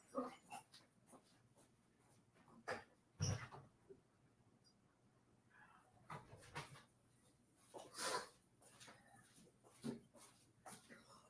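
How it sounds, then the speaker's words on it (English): Dogs moving about and panting as they are let outside, with soft whimpers, sniffing and scattered clicks and taps at low level. "I got to let these dogs out."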